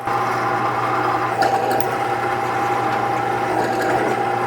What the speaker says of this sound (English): We got some drill bits, and we got a drill press.